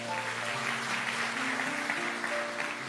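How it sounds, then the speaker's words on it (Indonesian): Church congregation applauding during worship, a steady, moderately loud clapping from many hands that holds even throughout, with soft sustained musical tones from an instrument underneath. "Kasih tepuk tangan untuk Tuhan Yesus"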